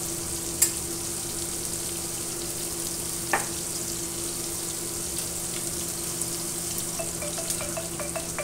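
Shrimp fry in a pan with herb seasoning, a quiet steady sizzle over a low hum, broken by a couple of faint clicks and a light run of ticking near the end, with no voices.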